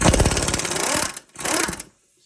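A 17mm socket on a ratchet or impact tool undoes a bolt on the front brake of a Lexus CT200h, giving a loud, fast mechanical rattle in two bursts separated by a brief pause.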